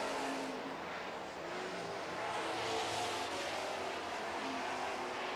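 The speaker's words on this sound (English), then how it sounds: "Eight laps to go in your Super Truck feature." Super trucks roaring around a race track during a feature race late in the laps, a dense continuous engine drone with passing vehicles rising and falling at middle distance, no voices heard.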